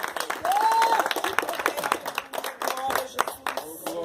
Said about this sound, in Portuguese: Receba o homem de Deus com as palmas